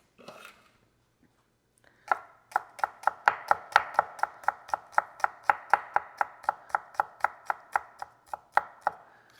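A knife chops shallot and poblano pepper on a cutting board in about twenty crisp, evenly spaced strikes, close and clear, after a short quiet pause at the start.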